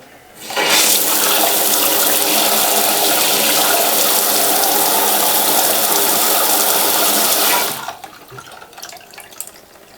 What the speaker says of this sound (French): Ça veut dire que l'eau s'écoule parfaitement.